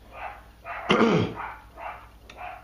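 A dog gives one sharp, loud bark close by, and soft, muffled sounds come before and after it.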